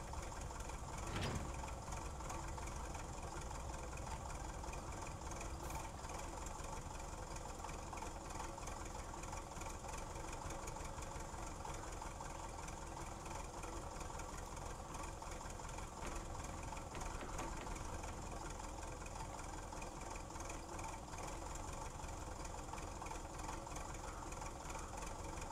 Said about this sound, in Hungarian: Indul a motor.